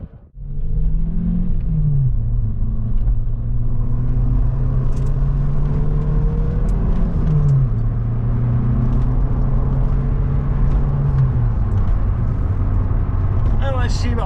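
Vauxhall Cavalier Diplomat fitted with a Peco Big Bore exhaust, driving on worn old Fulda tyres through corners: a steady loud engine drone with gear-change pitch steps, continuous road rumble close inside the cabin, voices talking over it.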